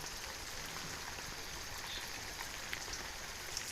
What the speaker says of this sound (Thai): ข้อดีของการเปิดสปริงเกอร์นะคะก็คือว่า เหมือนจำลองบรรยากาศฝนตกให้เขาอะค่ะ